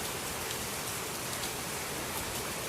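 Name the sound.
rain pouring during Hurricane Matthew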